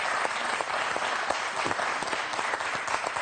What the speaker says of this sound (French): Frédéric applaudi par les 3000 personnes de la salle.